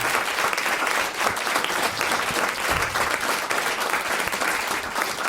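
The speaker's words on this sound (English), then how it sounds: "Can we have a big round of applause to Evan on sound and Craig on camera today?" A large live audience at a comedy podcast taping at the Melbourne Comedy Festival gives a big, steady round of applause, dense and continuous throughout with no pauses.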